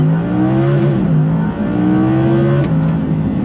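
An Audi R8 V10 Performance engine revs hard and loud through several quick gear changes, its pitch climbing, dropping at each shift and climbing again.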